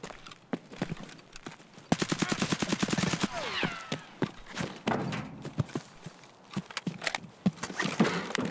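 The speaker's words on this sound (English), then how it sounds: "Somebody shooting at us back here?" Gunfire in the video game Escape From Tarkov, with isolated sharp shots, then a rapid automatic burst of evenly spaced rounds, followed by scattered further shots and game noise.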